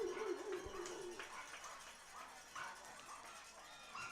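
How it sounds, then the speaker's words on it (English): Dogs bark at a baseball game, a cluster of yips and barks at moderate distance mixed with crowd ambience, fairly faint and scattered across a few seconds. "why are all those dogs barking at me?"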